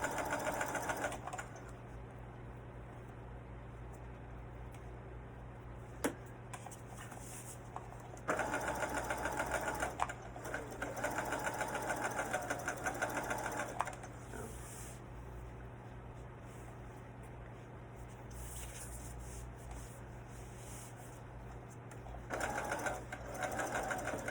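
A sewing machine stitches a fur robe in repeated bursts of steady, even running, several seconds each, separated by quieter pauses over a constant low hum in a home setting.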